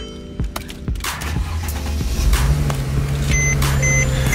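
A Mercedes-Benz W204 or W205 C-Class is started with the ignition key: a few short clicks and electronic chime beeps, then a low engine hum settles into a steady idle close by.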